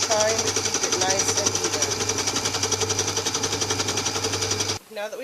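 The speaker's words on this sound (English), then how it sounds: "we're going to sew a tube. So we're going to go back and forth to make sure the stitch is good." A sewing machine stitches a fabric tube for a scrunchie, running steadily with a fast, even mechanical chatter close by, going back and forth before stopping abruptly near the end.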